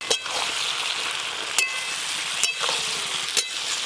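Malabar spinach cooking in a pot gives off a continuous close sizzle, punctuated by four sharp knocks of stirring against the pot at regular intervals.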